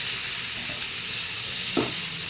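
Steady, dense sizzling of food frying slowly in a pan, a constant close hiss with one brief soft clink of a utensil near the end.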